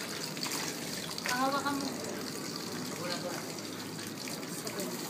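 Shower water running during a bath, a steady hissing spray under a nearby voice speaking briefly in Filipino.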